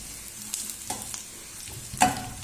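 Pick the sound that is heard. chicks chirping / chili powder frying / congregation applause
chili powder frying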